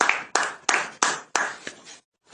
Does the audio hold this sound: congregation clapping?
yes